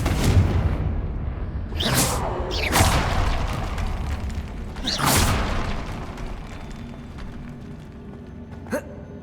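A Confringo fire spell from Hogwarts Legacy bursts in several loud whooshing blasts with rumbling low booms, followed by quieter ambience and a brief sharp crack near the end.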